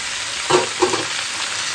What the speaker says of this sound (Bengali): তারপর দেখো 2-3 মিনিট ভেজে নিয়ে এবার দিয়ে দিলাম উপর দিয়ে ডাঁটাটা।